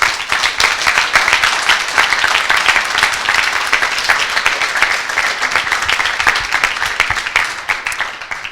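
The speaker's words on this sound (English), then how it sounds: "I'd like to give a huge round of applause for these 17 amazing people" Sustained, dense round of applause from an audience at a coding bootcamp demo day in Montreal, steady and loud for about eight seconds before easing slightly at the end.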